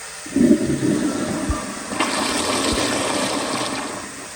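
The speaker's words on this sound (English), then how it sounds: "As y'all can tell, the flush is very short and the pressure is turned all the way up" A 1997 Kohler Highcliff toilet gives a short, weak flush: a brief burst of rushing water close by that quickly fades into a quieter refill hiss.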